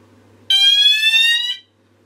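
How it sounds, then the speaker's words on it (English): A C-tec fire alarm panel goes into alarm with a single loud, piercing electronic tone lasting about a second, then cuts off abruptly to near silence. "Panel goes off into alarm,"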